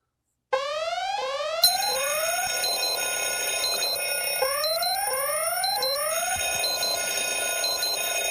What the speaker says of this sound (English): Oh, I'm going to hit the alarm.